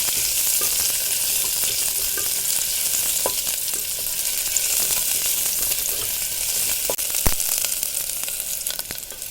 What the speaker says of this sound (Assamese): পিঁয়াজ আৰু নাৰিকলখিনি একেলগে ভাজি ল'ম।